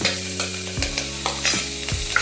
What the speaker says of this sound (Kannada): ಸ್ವಲ್ಪ ಫ್ರೈ ಮಾಡ್ಕೊತಾ ಇದ್ದೀನಿ